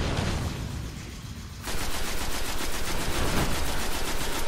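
Rapid automatic gunfire in the Destiny beta video game, a dense, loud stream of shots that starts muffled and then bursts into a sharper, steady rattle that continues to the end.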